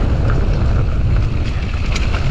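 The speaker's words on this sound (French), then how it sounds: "il y a beaucoup de vent aujourd'hui" Strong wind buffets the microphone outdoors, a steady loud low-frequency roar that fills the whole stretch with no break and no voices.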